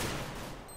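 Rapid gunfire from a match of the video game Counter-Strike on the map de_train, a dense burst of overlapping shots filling the whole moment at steady loudness with no talk.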